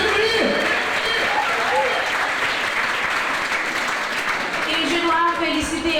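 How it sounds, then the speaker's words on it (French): A crowd at a careers fair (Expo-Métiers) applauds steadily for several seconds, dense and close, with a voice talking over the clapping. "je vous demande de vous applaudir vous-même parce que vous êtes vraiment formidables"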